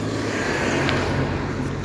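A car passes close on a road in a steady, loud whooshing engine rush lasting the full moment, with no talk over it.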